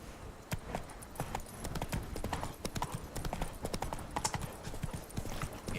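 Roach, a horse in The Witcher 3: Blood and Wine, gallops with a steady rapid clip-clop of hooves, close and continuous, with a faint whinny and game ambience underneath.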